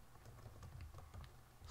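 Rapid, soft clicking of keys on a computer keyboard, a quick irregular patter of taps close by and quiet, with no voices.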